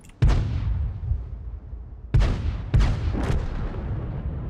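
Tank cannon shots in the World of Tanks video game, three loud booming blasts with long rumbling decay, the second and third closer together, heard alone without talk.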